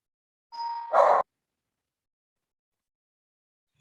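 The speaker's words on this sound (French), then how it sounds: "On a entendu la sonnette." A two-tone doorbell chime rings once, a high ding followed by a louder, lower dong, then silence.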